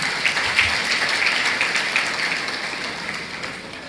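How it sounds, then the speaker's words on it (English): Steady applause from a large crowd at a formal ceremony in Abuja, dense and continuous, gradually fading toward the end. "Another Abuja round of applause for His Excellency."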